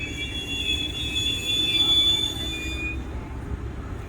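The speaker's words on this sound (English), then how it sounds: "There's a Silver Meteor 98 to New York." Amtrak Silver Meteor 98 rolling through DeLand station in Florida, a loud steady rumble of passing railcars topped by a high, shrill wheel squeal that fades away toward the end.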